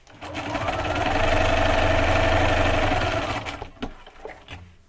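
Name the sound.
sewing machine stitching quilt fabric pieces together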